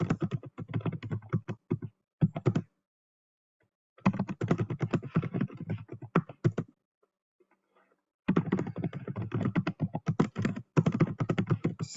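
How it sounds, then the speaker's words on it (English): Someone types on a computer keyboard, with rapid close clicking key taps in three bursts separated by pauses of silence. "just going to type in an example of a qualification that could be utilized within the My Resume tool."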